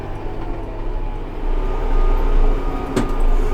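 Kubota utility tractor, either an M7060 or an M4D-071, running along in high range as the D-clutch is let back out, giving a steady low engine and drivetrain drone that swells slightly, with a brief clunk near the end.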